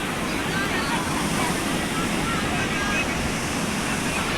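Sea waves at Puri beach wash in as a continuous loud roar of surf with wind noise on the microphone. Nobody talks in this stretch.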